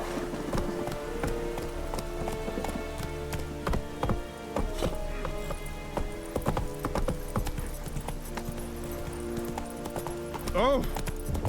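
Roach the horse trots in Witcher 3 with a steady, close clip-clop of hooves running through the whole stretch, layered with game ambience and a brief whinny-like cry near the end.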